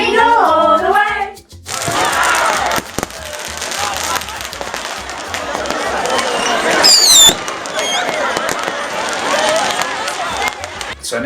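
Dense New Year's Eve fireworks and firecrackers crackle and boom continuously in a rainy Peruvian town plaza, a crowd murmuring beneath, with a brief voice at the start and a whistling rocket partway through.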